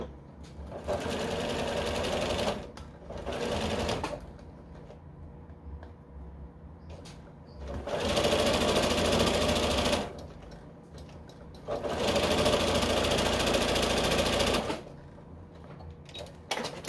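A sewing machine stitches patchwork fabric in three long whirring runs of about two to three seconds each, steady and close, separated by quieter pauses with soft handling noise.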